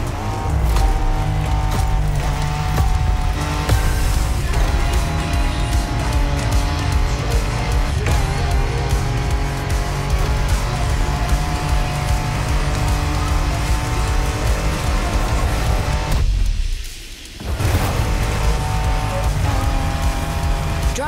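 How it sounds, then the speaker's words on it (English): Off-road driving in the racing video game The Crew Motorfest, a loud, sustained engine drone that shifts pitch through gear changes, with brief tire noise and a short dip near the end. "Driving off-road gives you an opportunity to carve your own path, to explore the open expanse."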